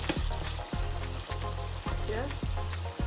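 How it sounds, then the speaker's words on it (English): Lamb liver sizzles steadily in a frying pan, a loud, close crackle broken every half second or so by short scraping bursts, with no voices. "we leave this to fry for a bit before we add our pasta in"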